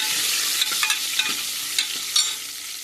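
Ginger and garlic added to frying dal, a bright steady sizzle with a few soft spoon knocks and stirring scrapes scattered through it, close and continuous.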